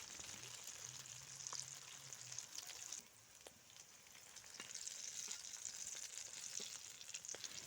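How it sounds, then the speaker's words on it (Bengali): Dhoka lentil cakes sizzling in hot oil as they are turned over, a steady crackling hiss broken by small clicks and taps of the spatula, quiet and with no voices. "এইভাবে উল্টে পাল্টে নাড়াচাড়া করে কিন্তু লাল করে ভেজে নিতে হবে"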